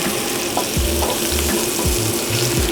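Garlic frying in extra virgin olive oil in a pan, a steady close sizzle with soft clinks and stirring noises, heard alone without talk.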